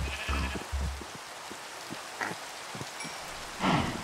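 Sheep bleating in the video game Minecraft amid rain, a couple of short nasal bleats standing out over soft pattering and scattered small clicks, moderately close.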